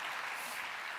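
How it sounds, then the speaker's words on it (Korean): Sustained applause from a church congregation welcoming a guest speaker at a testimony gathering, a dense, steady wash of many hands clapping at even loudness throughout, with no voices. "박수 이렇게 오래 받긴 처음인 것 같은데"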